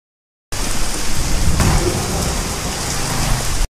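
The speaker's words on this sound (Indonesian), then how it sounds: "saat hujan sedang lebat" Heavy nighttime rain pours down steadily as a dense, loud hiss, with a deep rumble of thunder rolling through partway in, and no voices heard.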